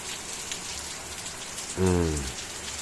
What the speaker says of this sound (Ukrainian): дощик дійшов